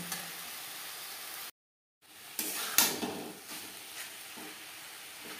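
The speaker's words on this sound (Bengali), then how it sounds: "মশলার সাথে ও পেঁপের সাথে ঘি বেশ ভালো করে মিক্স করে দেবো।" Papaya being stirred with ghee and spices in a pan: sizzling with scraping spoon strokes, broken by a short silent gap, then resuming with a sharp clatter and continued stirring nearby.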